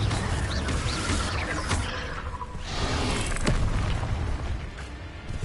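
Spell blasts from the Confringo fire curse in Hogwarts Legacy, a dense, continuous wash of booming explosions and whooshing bursts that stays loud throughout, with no talking.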